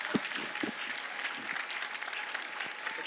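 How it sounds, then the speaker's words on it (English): Applause from the audience at a stakeholders meeting, a moderate and fairly distant round of clapping with a few sharper nearby claps, steady throughout and free of speech. "Round of applause for everybody."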